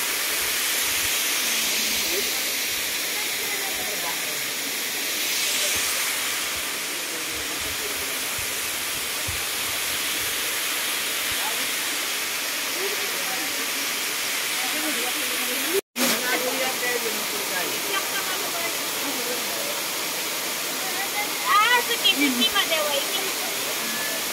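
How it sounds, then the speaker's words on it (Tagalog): A mountain waterfall in Japan roars as a constant broad rushing hiss, close and loud, with a brief break and faint voices toward the end. "nandito na ako sa malapit sa falls"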